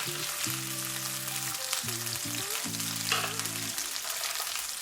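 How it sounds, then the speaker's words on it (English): Chicken gizzards fry in a pot with a steady, close sizzle. Short melodic tones sound over the frying, and there are no voices. "Fry your gizzards just for a bit."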